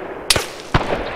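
Two close, sharp cracks of incoming gunfire in the video game ArmA 3 with the Faces of War mod, each a quick loud snap followed by a short echoing tail, spaced about half a second apart.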